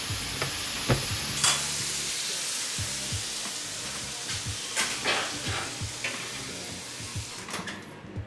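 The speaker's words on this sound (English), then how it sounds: "we take everything and put it back in the pan together. Stir it up." Shoarma meat sizzling and frying in a pan as it is stirred, with steady crackling throughout and repeated scraping and clanking of the utensil against the pan, close and fairly loud.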